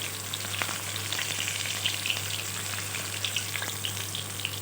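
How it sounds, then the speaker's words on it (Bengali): Snakehead fish sizzles steadily in hot oil in a pan, with scattered little pops and crackles over a constant frying hiss. "মাছগুলো খুব ভালোভাবে লাল লাল করে আমার ভাজা হয়ে গেছে"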